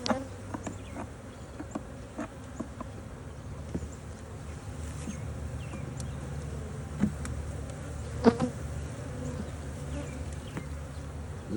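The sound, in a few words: honey bees buzzing while a frame is shaken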